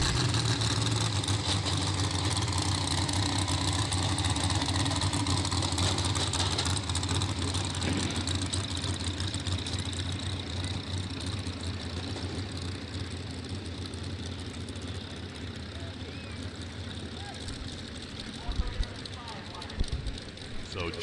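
A mini rod pulling tractor engine at a tractor pull, a loud, sustained roaring engine with a deep rumble that gradually eases, accompanied by a commentator talking over it and a few sharp bangs near the end.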